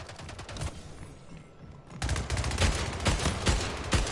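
Rapid gunfire in the arena shooter Splitgate, bursts of sharp shots that pause briefly then return louder and denser, firing in quick repeated volleys with no talking.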